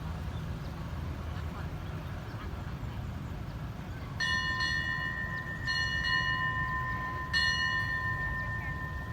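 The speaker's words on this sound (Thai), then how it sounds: "ในสถานีให้สัญญาณขบวนจะเข้าแล้วนะครับ" An electric signal bell rings steadily in a few sustained bursts over low rumbling station ambience and distant murmuring voices.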